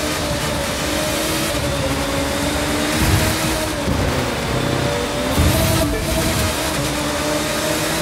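Car engine humming steadily while driving in The Crew 2 racing game, a continuous drone with engine tones shifting around two brief surges.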